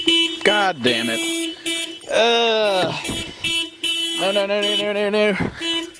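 Close, loud car alarm cycling through warbling, swooping siren tones and steady horn-like blasts, with short breaks between phrases.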